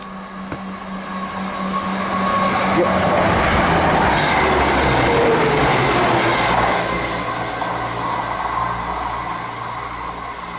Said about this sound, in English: Passing by now, we'll have an East Midlands Railway service from St Pancras International to Nottingham.